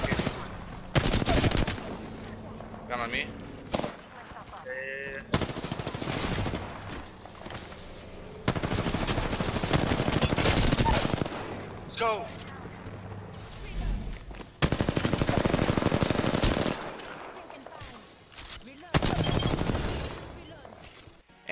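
Hip-fire gunshots in the video game Apex Legends come in repeated loud bursts of automatic fire, separated by short pauses, with a player speaking briefly over them.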